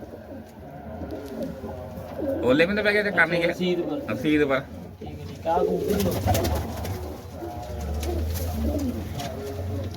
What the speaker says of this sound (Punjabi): ਉਹ ਕਬੂਤਰ ਹੈ ਇਹਦਾ ਬੱਚਾ